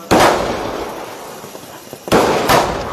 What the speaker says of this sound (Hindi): तो स्काई शॉट ये देखिए आप